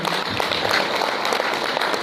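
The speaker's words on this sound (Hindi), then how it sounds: "जोरदार तालियां होनी चाहिए" A seated audience at a training event in Kolkata claps for the Webkey community, a short, loud, dense burst of many hands sustained throughout.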